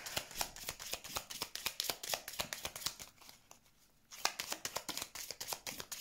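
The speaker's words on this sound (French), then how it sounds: "je vais tirer la dernière carte." A tarot card deck is handled and cards are drawn, giving rapid, crisp flicking and riffling ticks up close. The sound runs steadily, pauses briefly and then resumes.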